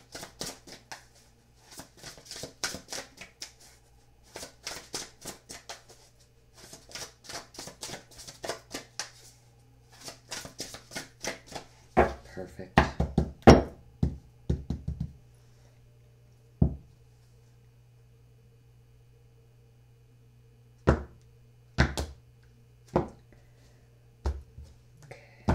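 A deck of tarot cards is riffled and shuffled in quick repeated bursts, close and crisp, followed by sharper scattered slaps and taps as the cards are handled more loosely.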